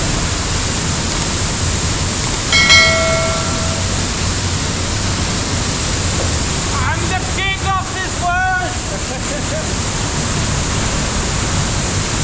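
A waterfall at Saklikent National Park in Turkey gives a steady, loud rushing roar throughout, with brief faint voices rising above it partway through.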